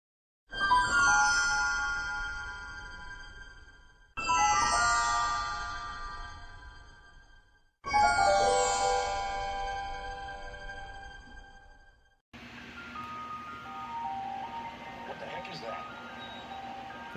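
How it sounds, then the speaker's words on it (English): Three bright chiming jingle phrases ring out in turn, each decaying before the next, typical of an ice cream truck tune in a film scene, followed by a quieter stretch of muffled movie sound. "It's an ice cream truck, stupid."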